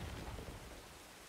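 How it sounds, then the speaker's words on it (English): Rain falls in Star Wars Jedi Fallen Order as a dense, continuous hiss with a low rumbling undertone, faint and steady throughout the short stretch, with no speech. "Wow, it's raining."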